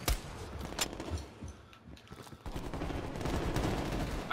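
Gunfire in Call of Duty Black Ops Cold War, a few sharp close shotgun blasts early, then a busier stretch of scattered shooting and action noise, fairly quiet overall.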